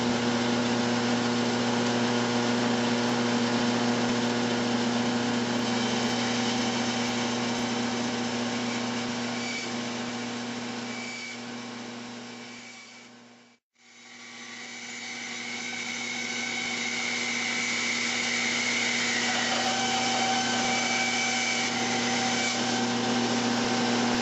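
A saw blade cuts through a bug-damaged wooden chest with a loud, sustained, droning whine. The sound briefly dies away and then spins back up midway, and no speech is heard.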